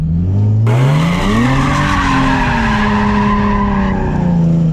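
A Nissan 370Z drifts in donuts around a cone, its tires squealing in a long, loud, wavering screech over the revving engine, the pitch sliding up and down as the car circles nearby.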